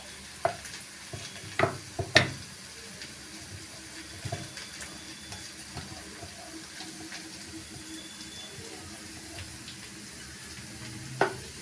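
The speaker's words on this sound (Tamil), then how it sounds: "வெங்காயம் ஓரளவுக்கு வதங்கியிருக்குங்க, இன்னும் கொஞ்சம் வதங்கட்டும்" Onions fry with a soft, steady sizzle and a few sharp clinks of a utensil against the pan, close by and fairly quiet, no talking.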